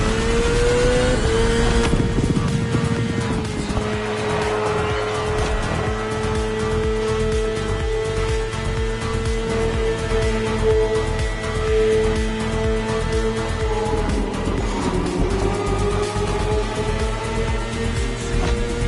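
A BMW S1000RR superbike in The Crew Motorfest roars continuously at close range, its steady high-revving engine tone shifting pitch as it holds speed, with no talk over it.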